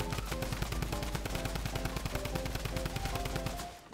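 Rapid automatic gunfire from the Fortnite video game rattles on in a dense, loud, continuous burst of evenly spaced shots, briefly thinning out just before the end.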